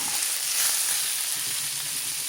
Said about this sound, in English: Now I am going to put my sausage in, my polka kielbasa sausage. And I'm going to get that sauteed up